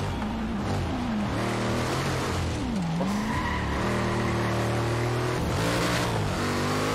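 Muscle car engines race in Forza Horizon 3, with Camaros roaring and revving through rising and falling gear shifts. Tires squeal throughout, loud and continuous with no pauses.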